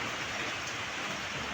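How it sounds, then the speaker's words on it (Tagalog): Rain falls outside during Typhoon Basyang as a steady, even hiss, heard without any voices. "Kay kuan ulan sa gawas."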